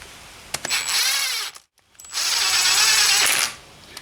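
A power tool runs intake bolts for a Yamaha Banshee billet intake into a stock-cylinder engine, with two loud whirring bursts separated by a brief pause.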